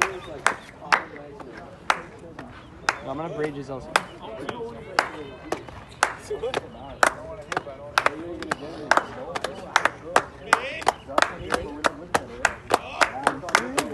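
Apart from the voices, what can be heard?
slow clapping in baseball dugout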